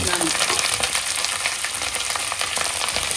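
Onion fries in hot oil with spices, curry leaves and green chilli, giving a close, continuous crackling sizzle with faint stirring scrapes and no talking.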